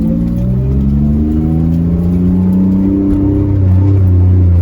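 A 2003 Mitsubishi Eclipse GTS engine revs hard at full throttle and climbs steadily in pitch as it accelerates, loud and continuous with no talking.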